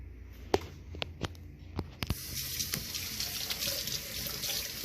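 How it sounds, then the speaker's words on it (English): Running tap water during hand washing at a kitchen sink while making burgers, a steady broadband rush starting after a few sharp knocks and clicks and continuing loud and constant to the end, no talk. "We are simply gonna wash our hands"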